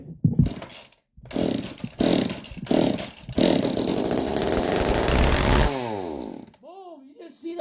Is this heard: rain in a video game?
no